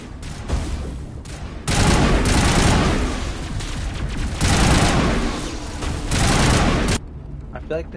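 Gunfire in the video game Mass Effect 1 comes in loud, dense bursts of rapid shots, stopping and starting several times, with speech in between.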